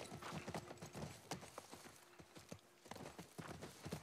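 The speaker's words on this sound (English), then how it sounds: "I love that we can ride a horse" Horse hooves clip-clop at a steady, even walking rhythm while riding in the video game The Last of Us Part I, close and moderately quiet, with no talking.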